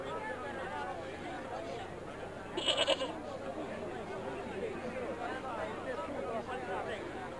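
A goat bleats once, briefly, in the video game Broken Sword 2 Remastered, a short cry rising over a constant bed of ambient game noise and murmuring background.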